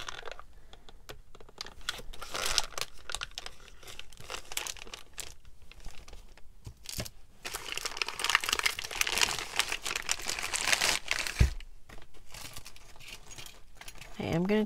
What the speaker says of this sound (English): I have a butter knife here. All right, let's cut off a piece.